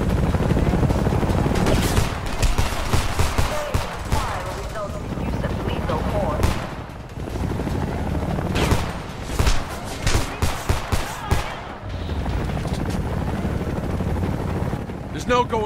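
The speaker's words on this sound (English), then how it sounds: "Start shooting! Open fire." Gunfire in the video game Homefront, a dense battle of repeated shots and bursts with helicopter-like rumble, loud and continuous throughout, with voices talking over the fighting.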